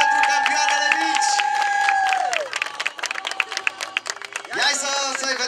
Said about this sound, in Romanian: Și premiate și felicitate cu aplauze din partea publicului pentru campioanele mici.